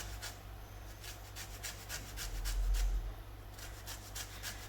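A large lemon is rubbed over a fine grater to take off its zest. The result is faint rhythmic rasping strokes, close by and quiet, with no talk over them.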